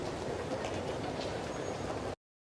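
Steady rumble and rattle of a commuter train riding on rails near Shinjuku in the video game Lost Judgment, continuous and moderately quiet with no talk, ending abruptly.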